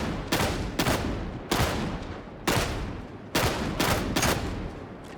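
Shotgun regular shots fired in Warhammer 40000 Darktide: six loud, booming blasts in a steady, evenly spaced rhythm, each with a short rumbling tail, heard alone without talk.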